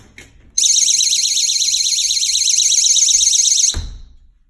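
A GE window and door alarm siren blares loud and steady for about three seconds, a piercing warbling electronic tone that cuts off abruptly, followed by a low thump.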